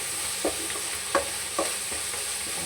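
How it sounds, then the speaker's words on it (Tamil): Green chillies and onions sauté in a pan for a village-style country chicken curry, with a steady close sizzle and a few soft scrapes of stirring. No one speaks. "பச்சை மிளகாய் போட்டு பச்சை மிளகாவும் கொஞ்சம் வதங்கட்டும்"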